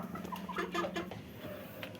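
Young Aseel chickens, roosters and hens about three months old, cluck in short, throaty bursts close by, a few calls overlapping, with steady farmyard background noise.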